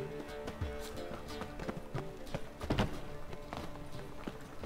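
A horse's hooves clip-clop at a walk in The Witcher 3 video game, a steady run of soft, close thuds over a low game ambience.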